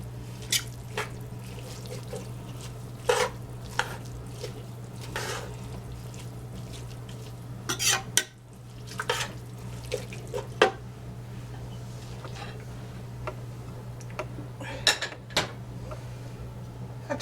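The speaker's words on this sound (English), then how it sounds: "now I got to put a little bit more water in this because of what this pressure cooker requires" Water is poured and dribbled into collard greens inside a pressure cooker, giving intermittent splashes and drips over a steady low kitchen hum.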